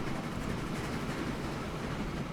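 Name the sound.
train running in the video game Train Fever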